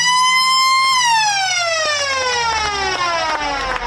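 A siren marks three-quarter time at a North Pilbara country football grand final, sounding as one loud, sustained wail that starts steady, then slides slowly downward in pitch as it winds down.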